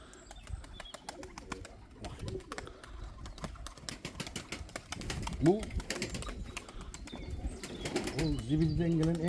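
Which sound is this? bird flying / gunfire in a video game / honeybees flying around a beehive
bird flying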